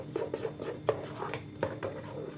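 A spoon clinks against a glass while mixing a chilled iftar drink, with several light, faint taps and scrapes in quick irregular succession.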